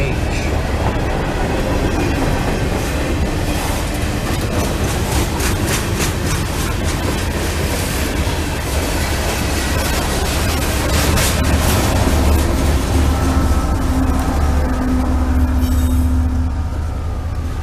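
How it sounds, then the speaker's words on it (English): A freight train passes steadily and loud and close, led through by rumbling cars with wheel clatter and some squeal, while a GE Evolution-series ES44AH locomotive pushes from the rear, its engine drone building toward the end. "the GEVO is going to be pushing from the rear"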